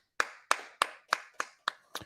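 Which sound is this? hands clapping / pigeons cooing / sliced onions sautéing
hands clapping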